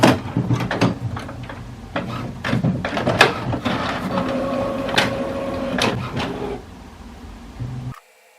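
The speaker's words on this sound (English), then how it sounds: "Let's extend the output tray extender." An HP Envy Inspire all-in-one printer has its plastic output tray extender pulled out, giving a series of clicks, clacks and sliding scrapes over steady printer machinery hum, ending abruptly.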